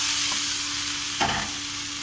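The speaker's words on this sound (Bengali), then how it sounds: "দিয়ে নেড়ে চেড়ে ভেজে নেব" Capsicum and carrot stir-frying in a hot pan for pasta: a steady close sizzle with one brief scrape of stirring partway through.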